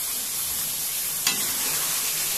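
Chicken with ginger-garlic paste sizzles steadily in a kadhai, a close hissing fry with one short scrape partway through, no voices.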